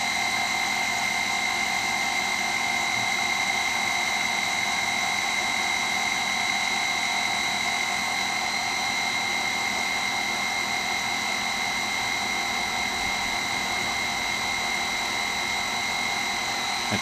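A swimming pool pump motor runs at high speed, giving off a steady, loud electric whine with strong tonal hum that holds constant throughout.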